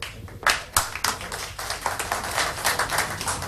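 Audience at a Jakarta debate event clapping for the moderator, loud, uneven individual claps building into a quick, close round of applause.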